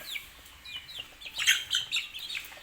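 Chickens about sixty days old cluck and chirp on a poultry farm, with a steady run of close, fairly loud calls that thicken into a busier burst midway.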